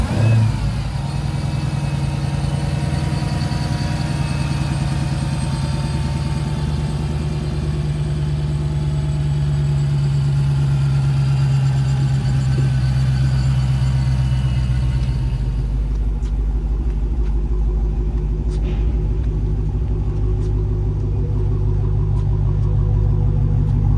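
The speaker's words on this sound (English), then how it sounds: "we're gonna make just a little bit of noise with the exhaust" A 2015 Dodge Challenger Hellcat, an early first-year car, rumbles loudly at idle, then its exhaust rises in a sustained rev before settling back to a deep, steady idle close by, with no talk.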